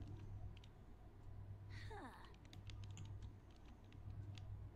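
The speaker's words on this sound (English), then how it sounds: "And you are just typing away." Keyboard typing from a character working at a computer in The Sims, a quick run of light clicks under steady game background music, with a brief chirpy game sound midway.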